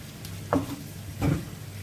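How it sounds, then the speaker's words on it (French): Cooked kebab meat warms gently in a pan over low heat, a faint steady sizzle broken by two brief louder bursts of frying. "là, on va laisser juste chauffer un peu la viande"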